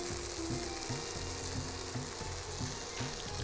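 Tomatoes sauté in hot oil in a pan, a close, continuous sizzle with recurring scraping strokes of stirring at a steady rhythm, no voices over it.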